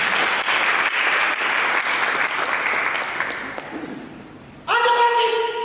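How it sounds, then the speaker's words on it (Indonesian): A church congregation claps during a sermon, steady applause that fades over several seconds before an amplified sustained musical tone cuts in near the end. "Berikan tepuk tangan bagi Tuhan."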